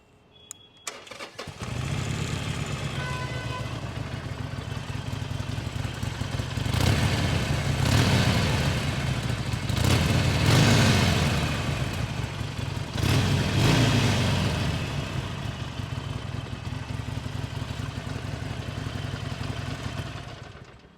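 A stock Harley-Davidson Forty-Eight with the factory exhaust and air filter starts, then idles with a deep, steady rumble and is revved three times in swelling bursts, loud and close, with no talk.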